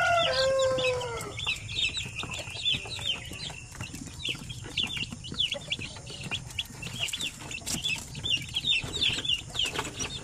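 Young chicks (sisiw) cheeping in a brooder under a lamp, a continuous chorus of high, rapid peeps close by over a steady low hum, with a louder chicken call at the very start.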